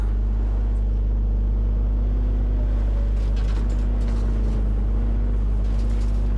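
A car engine in a video game holds a loud, steady droning hum as the car drifts through a turn, with a slight waver in pitch and no talking.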